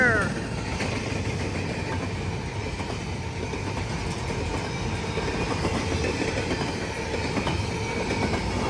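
Norfolk Southern coal train rolling past in Ironton, a steady, close, continuous rumble of railcars with faint wheel clatter throughout, loud and unbroken with no voices.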